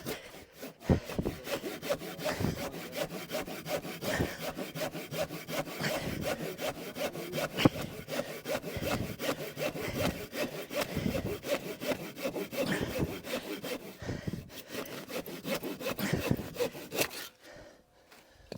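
A hand saw rasps steadily through wood in quick back-and-forth strokes, close and continuous for a long stretch before stopping abruptly near the end.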